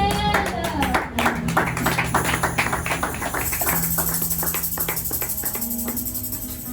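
Congregation at a church service clapping in acclaim, dense rhythmic hand claps throughout, steady and full, with sustained organ-like tones and music beneath.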